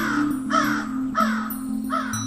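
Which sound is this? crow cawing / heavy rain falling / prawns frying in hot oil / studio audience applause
crow cawing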